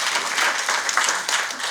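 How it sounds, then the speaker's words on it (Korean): An audience at a pastors' seminary gathering claps in dense, steady applause for a brief moment, near and even in loudness with no voices over it. "이거 밋밋하니까 박수로 다시 한번 드리겠습니다."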